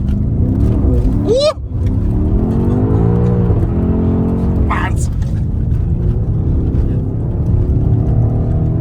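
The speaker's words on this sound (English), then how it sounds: "if you do an exhaust on this car, they sound absolutely amazing" A BMW X6M's engine revs and pulls hard with a loud exhaust note and turbo whir, climbing in pitch, with a couple of sharp whooshes, as voices speak over the drive.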